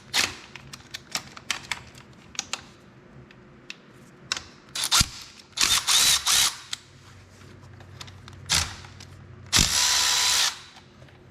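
Short bursts of a power driver loosen 5mm Allen bolts on the aluminum engine cover of a Honda CB500X motorcycle, with clicks and ratcheting in between, close and sharp, with brief sustained whirs near the middle and end.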